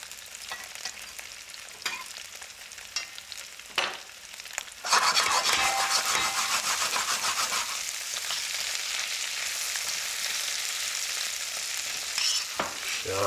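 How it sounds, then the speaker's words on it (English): Tomato paste seared in a pan on a wood-fired kitchen stove, cooked alongside short ribs, produces a steady close sizzle with repeated scraping stir strokes that swells louder and denser midway, with no talk. "just giving that sear to the paste, which is so important to give that rich umami"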